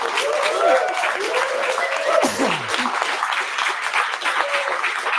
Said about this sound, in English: if I could ask you all to clap as loud as you can, maybe a few whoops and cheers along the way as well